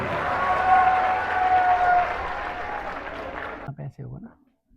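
Audience applause for painting makers at a gathering in a medical college, a dense steady wash of clapping for about three and a half seconds before breaking off into a few scattered claps and silence.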